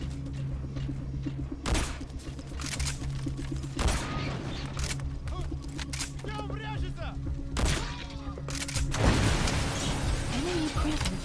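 Rifle gunfire in the stealth game Metal Gear Solid V: The Phantom Pain, with several loud, sharp shots spaced a few seconds apart over a steady background hum, and a voice talking between them.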